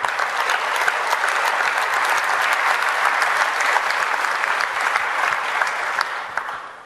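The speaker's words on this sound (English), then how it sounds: "Everyone, please applaud for Andrew." A conference audience at a tech talk applauds Andrew, producing a sustained, dense roar of many hands clapping that holds steady and then tapers off near the end.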